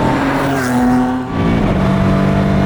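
A Ford GT Mk IV supercar, 800 bhp, revs up under acceleration with a rising engine tone, a brief dip at an automatic upshift, then pulling hard again, loud and close.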